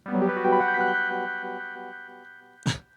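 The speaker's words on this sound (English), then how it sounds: "It almost sounds, to me, it almost sounds like a harmonic tremolo." A sustained chord from an Omnichord OM-84 wavers with a rhythmic, modulated harmonic tremolo, fading slowly, then cut off by a short burst of noise near the end.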